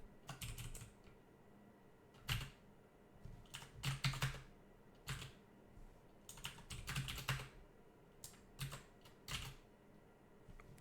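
Keys clacking on a computer keyboard while playing Dungeon Crawl Stone Soup, a scattered run of quick, close presses with short clusters and brief pauses, moderately quiet with no talk.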